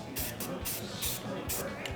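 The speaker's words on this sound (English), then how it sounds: "I'm going to spray that thing real quick" Short hissing bursts of spray paint onto a hand-carved dog leash hanger, several quick sprays in a row, close and fairly loud against a noisy background.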